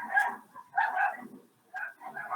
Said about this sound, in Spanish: Esos son los perros de mi vecino